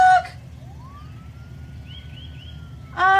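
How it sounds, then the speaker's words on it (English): A distant siren in the video game A Date in the Park rises slowly and then holds a faint, thin wail. Quiet background noise sits under it between louder sounds at the start and end. "I can hear a siren."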